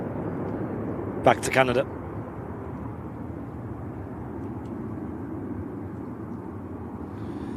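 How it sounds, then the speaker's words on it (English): An airplane takes off from a runway, heard as a steady, broad, distant roar that holds throughout, with a brief spoken remark near the start. "Seems quite light how it floated off the runway there. And off she goes."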